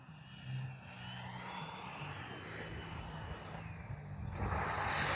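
An FMS Integral 80mm RC jet sweeps in for a touch and go landing in a light crosswind, its steady engine whine holding at a moderate distance and swelling louder toward the end.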